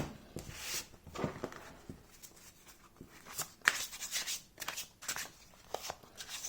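Matte-cardstock oracle cards being shuffled by hand, a series of soft riffling bursts and papery flicks at irregular intervals, close but quiet, without talking.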